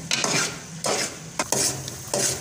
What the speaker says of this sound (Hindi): मुसलसल जो चम्मच है इसको हिलाते रहना है